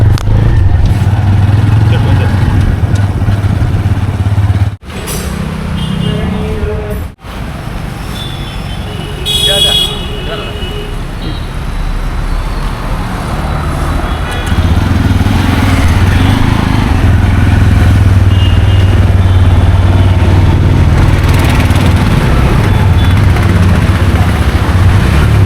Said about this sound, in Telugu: రాజమండ్రి వీధుల్లో బైక్ రైడ్ చేస్తున్నాను.